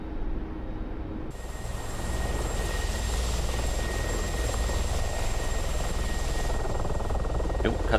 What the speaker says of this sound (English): Mein Heli macht komische Sachen.